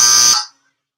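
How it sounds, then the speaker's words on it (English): An x-ray machine's exposure tone, played back as a recording: a steady, loud electronic buzzing beep lasting under half a second that then cuts off into silence. "let's listen to an x-ray sound really quick."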